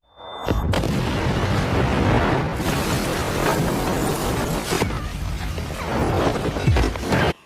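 A loud explosion bursts after a brief beep, followed by a long rumbling roar with crashing debris and further booming impacts.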